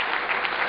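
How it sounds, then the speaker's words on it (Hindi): Audience applause at an Urdu mushaira poetry gathering in Qatar: a dense, steady wash of many hands clapping, sustained without a break, with no voices on top. "आप सबकी तालियों के गूंज में मैं इकबाल अशर साहब से गुजारिश कर रहा हूं"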